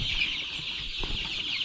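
Laying hens on a poultry farm cluck in a soft, continuous murmur, with a brighter chatter of many birds over a low background rumble; no voices.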